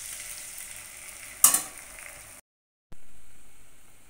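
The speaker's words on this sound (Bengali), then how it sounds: "তেল গরম হয়ে গেছে, অড়হর ডাল কড়াইয়ের মধ্যে দিয়ে দিতে হবে।" Pigeon pea dal drops into hot oil in a wok with a sudden loud sizzle that settles into a steady frying hiss, broken by a short pause before the sizzling resumes.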